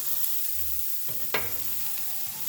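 Onions and peppers hit hot avocado oil in a preheated skillet, setting off a loud, continuous sizzle with a brief sharper burst as the food is stirred around the pan.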